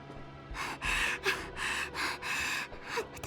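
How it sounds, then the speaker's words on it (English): A person gasps for air in a series of five or six harsh, breathy inhalations and exhalations, close and loud, with short pauses between them. "gasping for air"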